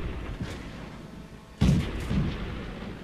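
Cannon fire from a French Somua S35 Tier III medium tank in World of Tanks: one heavy boom with a deep low thud, then a smaller follow-up blast, over a rumbling engine and battlefield backdrop, with no voice.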